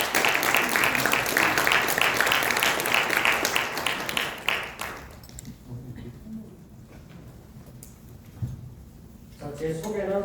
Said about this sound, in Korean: 허영의 교육박사님을 힘찬 박수로 맞이해 주시길